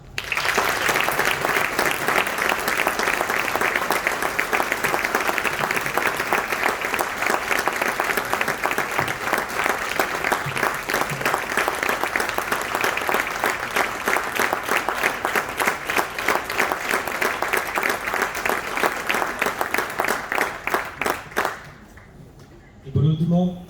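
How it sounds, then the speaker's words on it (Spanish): Dense, sustained audience applause fills a gastronomy awards ceremony for a food shop owner in Colombia, running loud and even for about twenty seconds before cutting off abruptly and giving way to a brief quieter tail. "Un aplauso."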